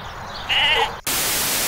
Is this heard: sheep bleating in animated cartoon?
yes